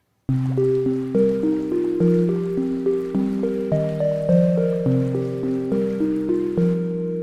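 A sequence of soft, round synth plucks plays a simple melody, each note decaying quickly, steady and clean with no voices.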